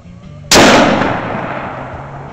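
A single sharp, very loud gunshot cracks out at close range and leaves a long decaying echo tail, with a quiet stretch just before it.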